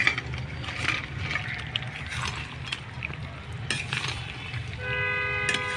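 Fried giant freshwater prawns are tipped into a pan of oily, well-cooked masala and stirred, giving a soft, steady sizzle with scraping and occasional spoon clatter, fairly quiet and close, with no talking.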